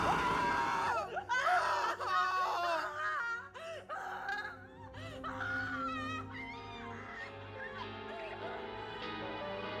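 Shrill, wavering screams from several people rise and fall in anguished bursts, loud and close, then trail into quieter wails.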